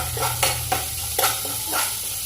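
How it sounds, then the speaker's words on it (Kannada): Onions sizzle steadily in a hot pan while a spoon scrapes and stirs in a few distinct strokes, close and fairly loud, with no talking. "ಈರುಳ್ಳಿನ ಸ್ವಲ್ಪ ಫ್ರೈ ಮಾಡಬೇಕು. ಈರುಳ್ಳಿನ ಸ್ವಲ್ಪ ಫ್ರೈ ಮಾಡಿ. ಹಾ, ಫ್ರೈ ಮಾಡ್ತಿದ್ದಾರೆ."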